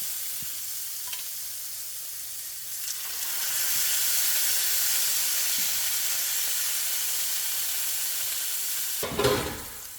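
Steak searing in a very hot pan on a stovetop, giving a steady, loud sizzle and hiss that swells after a few seconds and holds, with a few brief clatters near the end.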